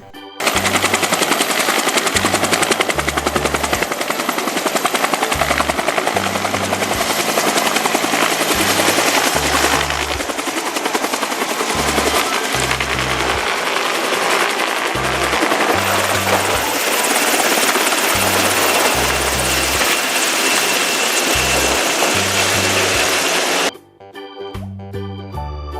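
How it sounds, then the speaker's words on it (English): A helicopter's rotor beats in a loud, fast, steady chop with a dense roaring engine whine above it, continuing unbroken until it drops away abruptly near the end. "Helicopter."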